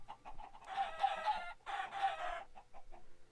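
Chickens clucking in the Minecraft video game: two dense bursts of clucking, each about a second long, set among lighter, scattered squawks. The calls are fairly close and steady in loudness.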